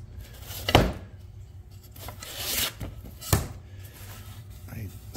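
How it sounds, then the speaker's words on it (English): Hand sanding of rough-cut wood pieces for an antique desk repurposed as a chest: a few short, raspy rubbing strokes at close range, separated by pauses, with someone talking over them. "I'm just going to sand these off, get them pretty good"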